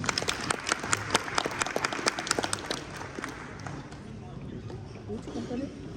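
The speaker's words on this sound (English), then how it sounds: "Please give him a round of applause." An audience at a university symposium applauds a guest speaker. Sharp, distinct claps are clustered early, then thin into scattered hands beneath murmuring voices.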